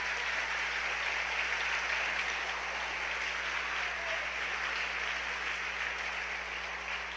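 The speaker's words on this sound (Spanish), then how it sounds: "Dale un aplauso al Rey bendito." A church congregation applauds in a steady, even wash of clapping that holds for several seconds, fairly faint and distant with a low hum underneath.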